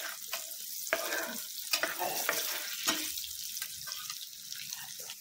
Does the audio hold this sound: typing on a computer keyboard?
no